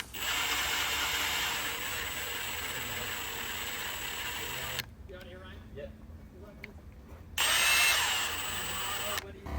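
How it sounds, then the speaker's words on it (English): A drill spins back and forth to grind an engine valve on a 2003 Cessna T206H. A loud, steady whine runs for about five seconds, stops for a quiet pause, then returns in a second strong burst. "When you spin the drill back and forth, they don't keep going in one direction."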